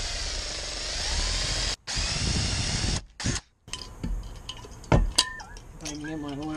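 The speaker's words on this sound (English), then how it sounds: "So my drill bit has something to grab on and it won't just kind of wander." Power drill boring a center-punched hole in metal while working on a Subaru turbo conversion, a steady whirring drone that stops and restarts in short runs, followed by lighter clinks and someone talking.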